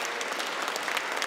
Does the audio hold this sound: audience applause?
yes